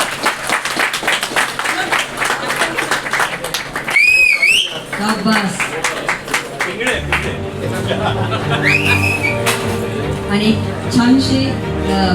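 A crowd claps at a retirement felicitation ceremony for a Brihanmumbai Municipal Corporation N ward deputy chief engineer. The applause is a loud, sustained patter that mixes with a person speaking over a microphone throughout.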